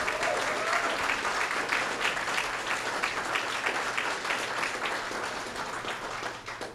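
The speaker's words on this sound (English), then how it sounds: "Let's give them a round of applause." Sustained applause from a luncheon audience for the culinary team, a dense, steady wash of many hands clapping at even loudness throughout, tapering slightly at the very end.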